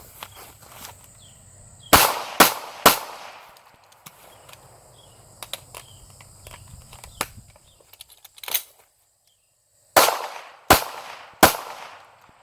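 Rapid Glock pistol shots at a shooting range, crisp sharp cracks in quick clusters: three near 2 seconds, a lone shot around 8.6, then three more late, with quiet handling and movement noise between strings.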